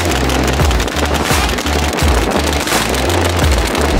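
Paintballs fired in rapid volleys at a solar panel, a dense rattling patter of hits like hard rain, loud and continuous, no talking.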